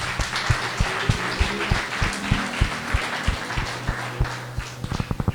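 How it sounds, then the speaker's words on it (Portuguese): A church congregation claps, the sharp individual hand strikes standing out in an uneven rhythm over a steady sustained background tone, with a brief quickening flurry near the end. "Você pode aplaudir ao Senhor por isso"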